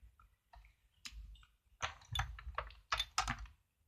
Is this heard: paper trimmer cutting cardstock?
yes